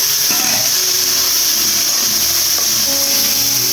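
Potatoes go into a pan of hot oil for frying, setting off a steady, bright hiss of sizzling with a few soft clunks early on, close and fairly loud.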